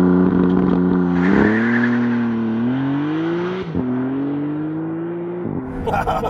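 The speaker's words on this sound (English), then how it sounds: "Maserati MC20 with launch control. Oh, that boost hits hard." A Maserati MC20 with a 3-liter twin-turbo V6 launches hard under launch control, its loud, close engine note climbing through gear changes with brief dips at each shift.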